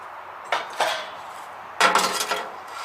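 A metal cookie sheet and small pan fitted into a campfire oven, giving a few sharp metallic clanks and scrapes, two near 0.5 seconds and a longer rattling clatter near 2 seconds, close and alone.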